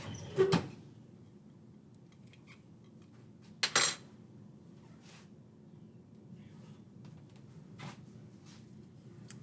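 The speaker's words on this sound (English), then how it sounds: "Let me get my teaspoons. I can just grab a spoon right here." A spoon is pulled from a drawer of cutlery while chicken tortilla soup is being cooked: two short metallic clinks, one near the start and one midway, over a low steady kitchen background.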